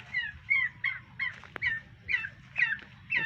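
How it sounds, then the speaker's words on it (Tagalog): Rhode Island chickens in their coop in Leyte, laying hens of a brown-egg breed, give a steady run of repeated clucking calls at close range over a low background rumble. "Ito po Rhode Island, yung nangingitlog siya po ng mga brown egg."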